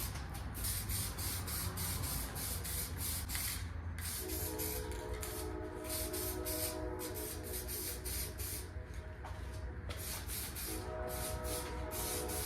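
Steady hissing spray as engine parts from a modified 351 engine are spray painted, with a low rumbling train and a faint tonal hum in the background.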